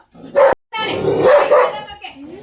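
A big dog in a Coorg village barks loudly and close by: one sharp bark, then a longer run of deep barks, ending with a brief whine.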